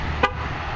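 A 2011 Chevrolet Camaro Convertible 2SS gives a single short horn chirp as it is locked with the key remote, a brief toot over a low steady background hum.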